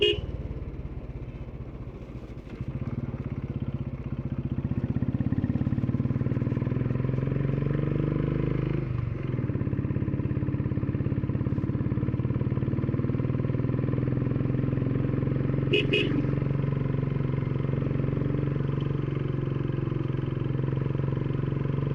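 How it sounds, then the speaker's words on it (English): A motorcycle climbs a hill road in third gear, its engine note rising to a loud, steady drone after the first few seconds, with wind rushing throughout. "I should be able to accelerate even on this slope, even in third gear."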